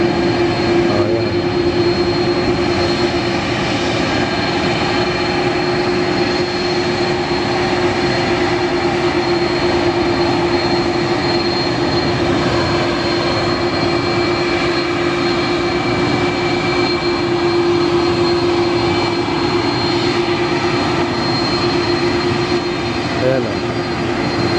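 China Airlines airplane arriving at an airport: a loud, steady jet engine drone continues throughout, with occasional voices under it.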